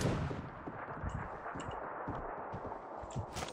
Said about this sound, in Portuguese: É um maluco dando tiro.